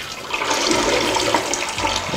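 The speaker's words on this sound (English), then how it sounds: "Lift it up, flush." A toilet flushes during a home inspection, a steady close rush of water pouring through the bowl for the full duration with no talking over it.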